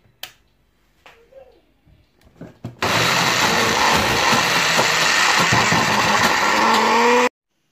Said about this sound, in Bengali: ব্লেন্ডারটা আমি আবারও চালু করে দিচ্ছি।